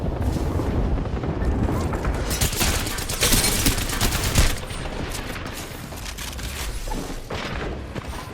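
Game explosions from a Knuckle Cluster, grenades and Arc Stars during a ladies' night Apex Legends-style Proving Grounds match, a dense continuous barrage of booms and gunfire bursts with no pauses, loudest mid-clip before easing slightly.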